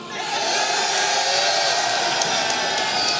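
A large esports arena crowd at a Counter-Strike final between SK Gaming and FaZe roars and cheers for SK, a dense, sustained wall of noise that swells and holds.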